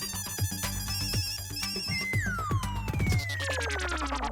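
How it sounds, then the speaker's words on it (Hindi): A phone ringtone chimes repeatedly in a melodic pattern, muffled and moderately distant, ringing inside a house behind a closed door, then ends on a descending tone. "फोन तो अंदर ही बज रहा है"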